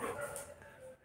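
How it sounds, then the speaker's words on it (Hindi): Dogs barking outdoors, a few short faint yips and barks at a distance, quiet and brief. "बाहर कुत्ते भौंक रहे, मुझे पता है बाहर कुत्ते भौंक रहे"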